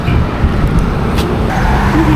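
Trucks on the Trans-Sumatra highway between Lampung and Palembang, heard as loud, continuous close traffic rumble and road noise from heavy vehicles rolling past, without talk.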